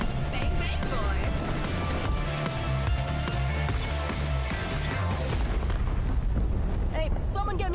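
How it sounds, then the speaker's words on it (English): Airstrike explosions in a multiplayer shooter tournament match, a dense run of heavy booms and blasts rolling together loudly for several seconds, with game voices and effects mixed in before fading near the end. "Incoming airstrike!"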